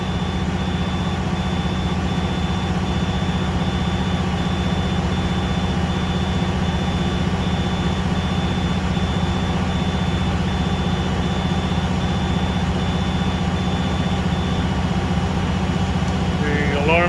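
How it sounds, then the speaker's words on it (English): Low air pressure warning alarm in a school bus during an air brake test, a steady tone sounding continuously over loud idling engine rumble, with voices talking throughout. "The alarm has gone off."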